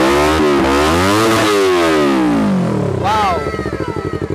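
A two-cylinder Yamaha Vixion fitted with an aftermarket three-mode Engker exhaust revs up and down in loud, close throttle blips, the tone rising and falling before settling into a rough idle.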